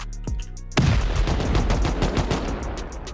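An automated turret fires during a base raid in a survival video game. A few soft pops are followed by a sudden, loud, sustained rattle of rapid shots that keeps going steadily.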